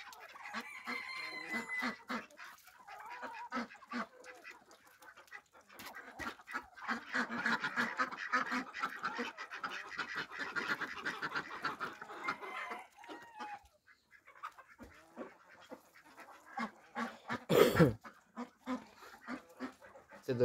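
Hens cluck and a rooster crows amid busy farmyard noise, with a dog barking at times; a loud burst near the end.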